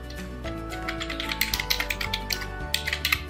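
Typing on a computer keyboard, a rapid run of light close key clicks in short irregular bursts over a steady low background hum.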